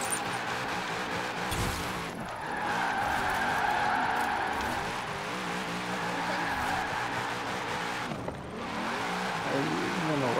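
Car drifting and skidding across a snowy course in the racing game Forza Horizon 4, with a steady loud engine drone and sustained tire squeal throughout, briefly dipping around the middle and near the end.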